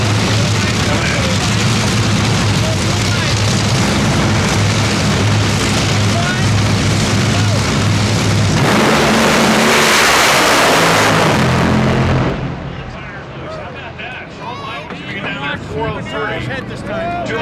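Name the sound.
nitro drag racing cars making a run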